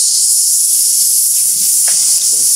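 A person on a talk show imitates a pressure cooker whistle with the voice, producing a loud, continuous breathy hiss held steadily from start to finish without a break.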